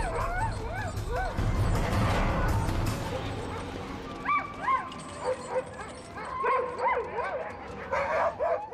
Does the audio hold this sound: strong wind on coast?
no